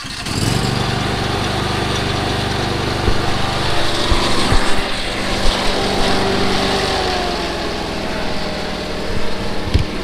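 A newly demoed lawn mower engine starts up and runs steadily, a loud, continuous, high-pitched drone that holds close and unbroken throughout with only slight fluctuations.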